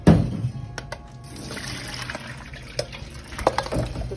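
Taro roots being washed by hand in water, with splashing, trickling and dripping sounds in uneven bursts, close and fairly loud.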